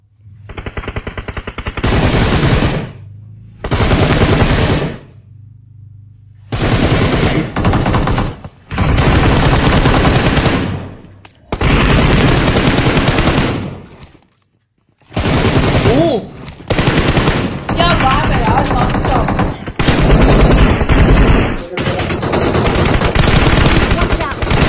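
UMP submachine gun fire in a PUBG-style battle royale match, loud repeated bursts of automatic fire in close range with short gaps, some bursts long and sustained, no talk over it.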